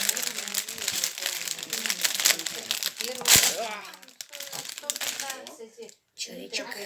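A plastic bag full of Lego pieces crinkles and rustles up close, with dense, sustained crackling and a sharp tear-like peak midway, while people talk quietly underneath.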